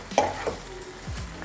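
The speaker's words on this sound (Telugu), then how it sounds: "వేయించాలి, మ్యాంగో మాడకుండా ఉండాలి." Mango pieces fry in oil in a pan while a spoon stirs and scrapes through them, giving a short burst of sizzling with a couple of clinks up close, with no talking.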